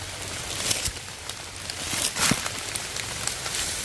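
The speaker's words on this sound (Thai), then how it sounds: "อันนี้ก็ฝนลงเม็ดนะครับ" Rain falls in a forest during mushroom foraging, a steady soft patter of drops with a few louder hits close by and no voices.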